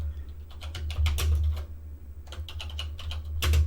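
Quick clusters of keystrokes clatter on a Tandy Color Computer (CoCo) keyboard, close and crisp, with short pauses between bursts over a low steady hum.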